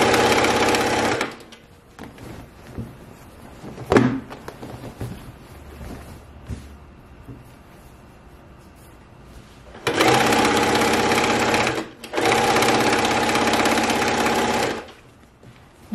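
A sewing machine stitches binding onto a quilt in loud, steady bursts, running briefly at the start, then in two longer runs separated by a short pause, with quieter handling noises between.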